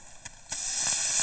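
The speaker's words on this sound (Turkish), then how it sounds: "Şimdi kaynar su ekliyorum." Boiling water hits a hot tray of pan-fried mantı and erupts into a loud, sustained sizzling hiss that starts abruptly and keeps building, close up with no talk over it.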